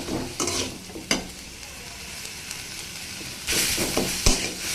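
Red amaranth greens frying with cauliflower and potato in a pan produce a moderate crackling sizzle with intermittent spatula scrapes and stirs, a louder burst of frying near the end, close and without talk.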